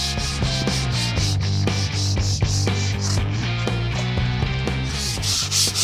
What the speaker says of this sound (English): Lightly sand it, keep going.